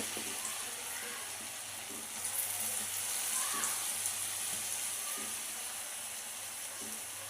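French fries sizzle in hot oil, a steady, fairly quiet hiss and crackle that runs throughout with a faint low hum underneath.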